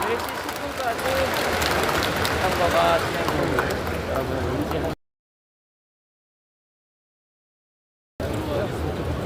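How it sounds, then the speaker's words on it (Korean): Crowd applause fills a large hall at a Democratic Party national convention, a dense, sustained wash of clapping and cheering that drops out partway through and then resumes, with voices mixed in. "다시 한번 큰 박수 부탁드립니다."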